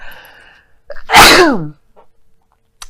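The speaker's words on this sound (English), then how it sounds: "I don't know why I'm sneezing so much" A single loud, close allergy sneeze with a sharp burst, preceded by a brief breathy intake and followed by quiet.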